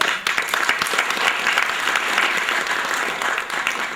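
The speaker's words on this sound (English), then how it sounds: "So let's give him a warm round of applause" An audience at an award function in New Delhi applauds, a dense, even wash of clapping that holds steady for several seconds.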